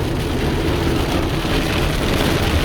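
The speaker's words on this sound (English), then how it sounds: "some pretty heavy rain." Heavy rain drums steadily over a moving car while crossing the state line into Kansas, a dense continuous wash of noise with low road and engine rumble underneath, loud and unbroken throughout.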